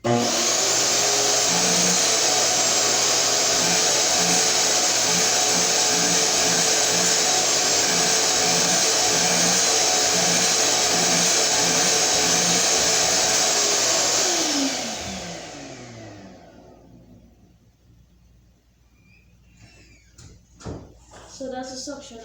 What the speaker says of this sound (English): let me show you the suction it has